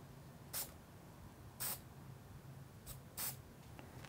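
Short hissing bursts of a silver spray paint can on a skateboard deck, four quick sprays spaced about a second apart, close up in an otherwise quiet room.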